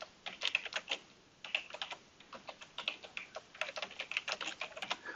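Rapid bursts of keystrokes on a computer keyboard while entering commands in the roguelike game NetHack. The clicks come in quick irregular clusters with short pauses between them, soft and close, with no voices.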